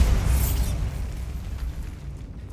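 The Bombarda blasting spell explodes in Hogwarts Legacy, a deep rumbling boom that starts loud and slowly fades over a couple of seconds.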